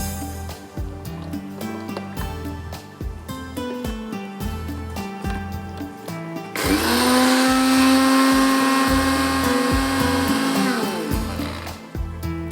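A blender grinds soaked lentils with poppy seeds in a short burst, a loud steady whirring motor that runs several seconds then winds down, preceded by clattering, pulsing kitchen sounds.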